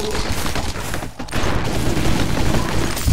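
Dense, rapid blasts and crackling bursts of video game explosions fill the clip continuously, loud and close, with a brief dip before the barrage resumes.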